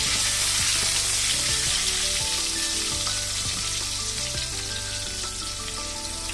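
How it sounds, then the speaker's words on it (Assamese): Pointed gourd (parwal) fries in a pan with a loud, constant hiss of hot oil, while repeated scraping stirs knock and rattle through it at an uneven pace. "ঢাকনাখন গুচাই আকৌ পটলকেটা অলপ লৰাই দিম।"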